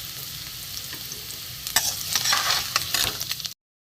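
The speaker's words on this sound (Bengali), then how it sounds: "এবার আলুগুলো একটু ভাজা ভাজা হোক" Potatoes fry in a pan with a steady, close hiss of hot oil. A spatula stirs and scrapes through the sizzle for a few seconds before the sound cuts off.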